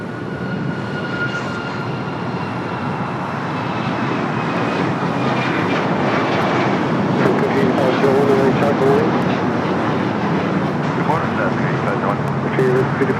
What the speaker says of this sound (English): heavy Airbus departing the parallel